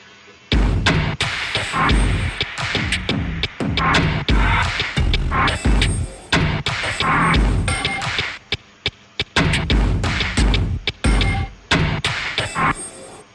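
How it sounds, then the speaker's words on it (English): Punchy drum shots from a track, drenched in grand, airy reverb, hit in a fast, dense pattern with brief gaps, loud and up front. "it creates this sort of airy effect when the drum shots pass through"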